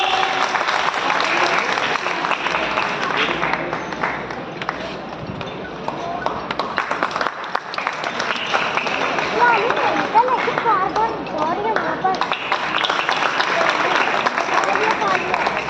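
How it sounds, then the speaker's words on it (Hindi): At a dance academy's fifth anniversary show, the crowd gives the children loud, sustained applause lasting around sixteen seconds, a dense roar of clapping with voices and cheers mixed in and only a brief dip midway. "तो जोरदार तालियां हो जाए बच्चों के लिए"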